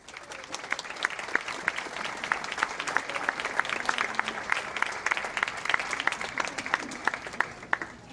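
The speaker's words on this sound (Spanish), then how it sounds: "con un fuerte aplauso" A crowd applauds warmly and steadily at a spiritual conference talk, many hands clapping together in a sustained burst of even intensity.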